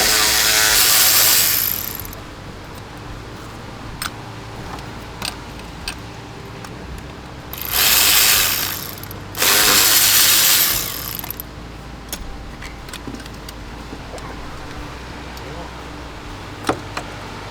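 Ratchet clicking while the coarse-thread screws come out of the throttle body on a 2013 Volkswagen Beetle, with loud bursts of ratcheting around 0–2 s and 8–11 s and scattered ticks between, close up in a workshop.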